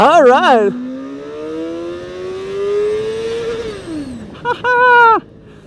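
CFMoto Voom 500 SR four-cylinder motorcycle engine revving briefly, then pulling in one long rising wail through a single gear before the pitch drops, followed by two more sharp revs close to the microphone.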